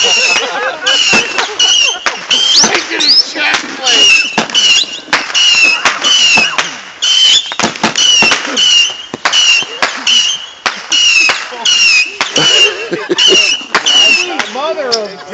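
Fireworks and bottle rockets going off in a loud, crackling, repeated burst, dense pops and whistling fizzes coming one after another almost without pause, close and harsh throughout.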